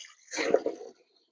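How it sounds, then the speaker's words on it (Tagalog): Water gushing from a natural spring where water is being drawn, a short close burst of splashing and pouring lasting under a second before falling quiet. "Biglang lalakas yung bulwak ng tubig."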